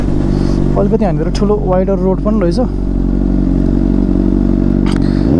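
Honda CBR 600RR sportbike, a 600 cc inline-four fitted with a loud Yoshimura exhaust, riding along a road. Its engine gives a steady, close low drone throughout while a rider talks over it.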